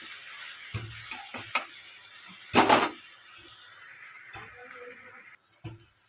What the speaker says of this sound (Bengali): রসুনটাকে ভালো করে ভাজা করবো,